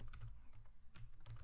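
Quick, quiet clicks of typing on a computer keyboard, a short close-up burst of keystrokes with uneven rhythm.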